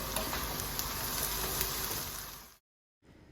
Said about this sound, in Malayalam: നമുക്ക് ഇതിലേക്ക് തേങ്ങാക്കൊത്ത് ഇപ്പം അങ്ങ് ഇട്ട് കൊടുക്കാം